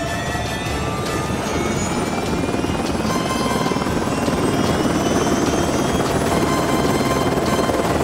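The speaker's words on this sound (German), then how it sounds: "lässt die Triebwerke des Hubschraubers an" A cartoon helicopter's engines start up, engine and rotor droning steadily and loudly throughout, a dense whirring roar with whining turbine tones above it and no voices.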